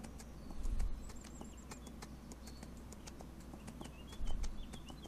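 Horse hooves clip-clop faintly in Farming Simulator 25, a couple of soft thudding hoof steps rising out of a steady low ambient bed with distant birdsong.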